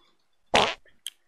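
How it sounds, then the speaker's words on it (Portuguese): Fart sound effect in a modded Minecraft skyblock game: one loud, close blast lasting about a quarter second, then a softer sputter and a quick final blip. "Vamos soltar um peidinho aqui então."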